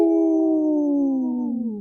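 A person's voice imitates a wolf howl in one long, loud, steady tone that slowly sinks in pitch, heard alone and close.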